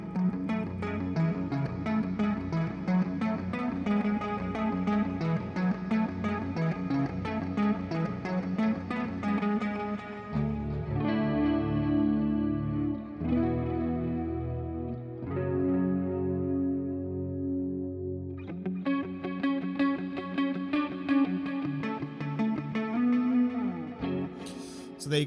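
Clean electric guitar tone through the STL Colin Richard plugin with chorus, playing chords and melodic lines steadily and loudly for the whole stretch, with no voices.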